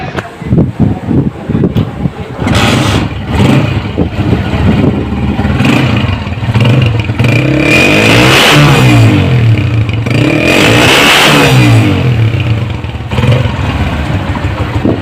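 A restored 2007 Honda CG 125 motorcycle cranks and fires up close by, settles into a loud idle, then revs up sharply twice before dropping back to a rough idle.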